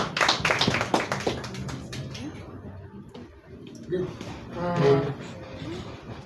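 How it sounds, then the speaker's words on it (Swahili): Several sharp claps at an awards unveiling ceremony in Kenya ring out at the start, fading into room murmur before a voice speaks near the end. "Tumpigie makofi mazuri tafadhali."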